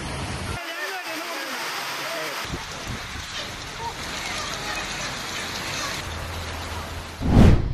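Heavy rain pours steadily over Hyderabad, a dense continuous hiss of water on streets and surfaces, with a short louder splash near the end.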